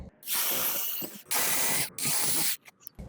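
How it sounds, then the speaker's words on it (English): A power drill whirs in three short, loud bursts with brief pauses between, a high buzzing grind as it bores through a storm door for a handle. "just stick it in there and drill all the way through"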